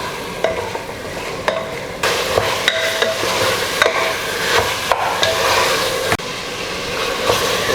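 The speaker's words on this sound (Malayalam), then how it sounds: "ഇനി നന്നായിട്ട് മിക്സ് ചെയ്ത് കൊടുക്കുക." A spoon stirs a chicken biryani mixture in a pressure cooker, giving a steady sizzle with repeated scraping clicks against the metal pot, close and loud with no talk.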